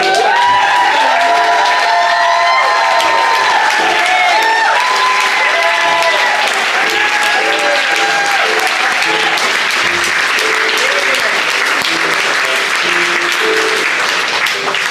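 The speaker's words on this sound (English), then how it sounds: "I'm asking you to give them applause so that they can hear that you're giving it to them" An audience applauds steadily and loudly throughout, with some cheers and whoops rising over dense clapping at a live show at Hillcrest Platte County.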